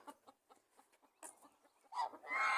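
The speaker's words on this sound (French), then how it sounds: "Les amis, je vis une attaque de poule." Chickens cluck and squawk in short, scattered bursts, close by, rising into a louder, agitated flurry of squawking at the end.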